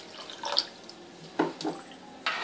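Water is poured into a cooking pot for semiya kichadi in a few short splashing bursts with brief pauses between them, close and moderately loud.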